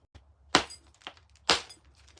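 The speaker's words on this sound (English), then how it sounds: "That sounds not good. That's the sound of something crushing." Flint knapping strikes against stone: two sharp, crunching impacts about a second apart, with softer taps and clicks in between, close and fairly quiet.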